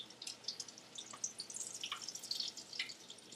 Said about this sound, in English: Let that last little bit of grease drip off of there.